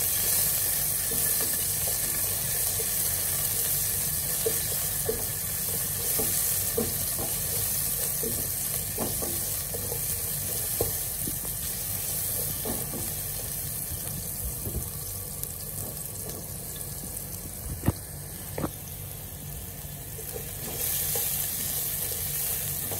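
Ginger sizzles in a pan as the first step of chicken tinola, a steady, faint hiss of frying that runs unbroken for the whole stretch, with a few soft clicks near the end.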